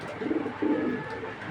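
A pair of Mili pigeons, big-bodied birds, coo softly in two short, low throaty bursts close by, with no voices over them.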